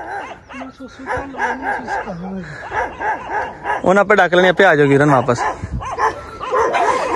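Dogs bark and yip close by in bursts, loudest midway, mixed with people talking and calling out over them.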